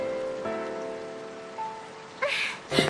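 Steady rain hisses softly throughout in Final Fantasy XIII, with a few brief tonal game sounds and a louder splash-like burst near the end.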